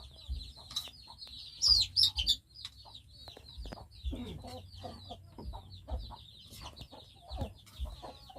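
Jungle fowl clucking outdoors, with a few louder bursts of calls standing out over a steady background of birds and insects.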